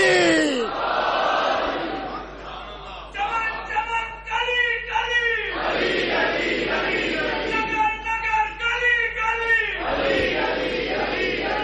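A large crowd at a religious gathering chants a slogan in loud unison responses, several swelling waves of voices following one another in a reverberant hall.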